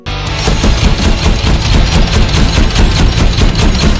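Rapid bursts of pistol gunfire in a film battle scene crackle continuously over a loud, rumbling background, dense and relentless throughout.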